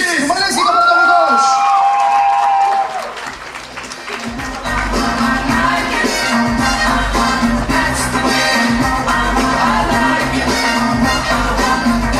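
A student KVN comedy league audience bursts into loud, sustained applause and cheering for a comedy team at the show, with whoops and shouts over a music sting, the crowd noise filling the whole stretch.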